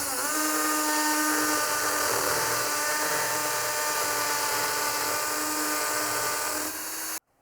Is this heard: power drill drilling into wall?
yes